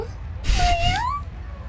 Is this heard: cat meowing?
yes